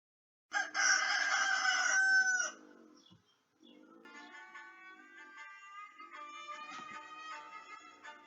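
A rooster crows once, loud and drawn out over about two seconds, followed by softer tonal warbling sounds in a children's animal-carnival song.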